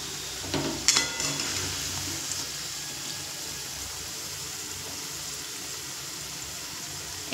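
Pointed gourd (potol) pakoras fry in hot oil with a continuous even sizzle and a few sharper crackles and spatters near the start.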